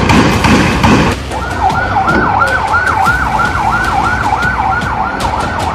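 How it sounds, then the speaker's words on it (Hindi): Ambulance sirens wail in a steady rising-and-falling cycle as they pull up outside a hospital in the West Bank, Palestine, loud and close, with a heavy rumble of traffic at the start that soon thins out. "इस अस्पताल के बाहर एक के बाद एक एम्बुलेंस फ्लैश लाइट जलाकर पहुंचती है।"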